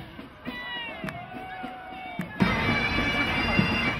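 A crowd at the 2015 Auckland Pride Parade cheers and whoops as military marchers pass. A whistle sounds and then a loud, sustained roar of cheering swells up in the second half.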